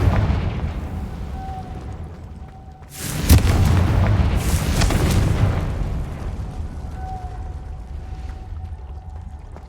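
Confringo fire spell explosion in Hogwarts Legacy: a sharp, booming blast around three seconds in followed by a rumbling second burst and a fading tail, over a low ambient game drone.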